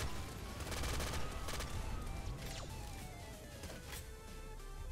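Rapid enemy police gunfire in the video game Nuclear Throne, a steady stream of quick shots layered with game effects, continuous and fairly loud with no talking.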